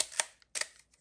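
Two soft, close Leica M rangefinder film camera shutter clicks about half a second apart, quiet and crisp against near silence.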